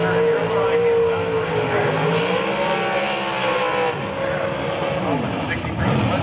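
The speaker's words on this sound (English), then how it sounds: "Actually, race cars are still rolling in the gate." Pro 632 drag race cars rolling through the water box at Maryland International Raceway, a loud, continuous engine rumble with shifting pitch and tire noise, heard up close with someone talking over it.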